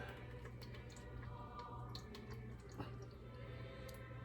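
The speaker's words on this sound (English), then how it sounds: "So I'm pouring it. I've got a little sieve here." A blended pepper mixture for pork tamales is poured through a small kitchen sieve, giving faint, steady trickling and dripping with a few soft wet drops, quiet and close.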